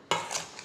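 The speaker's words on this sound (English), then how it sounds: "we're just going to mix all that together" A spoon stirs peach pie filling with sugar and lemon juice in a bowl: a single quick scraping swish with a soft wet rustle, close and alone.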